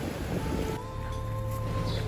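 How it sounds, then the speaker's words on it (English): Ocean waves roll in at Ngwe Saung beach in Myanmar, a loud continuous surf rush with wind buffeting the microphone and no speech. "I'm so thankful for hearing the sound of coming waves"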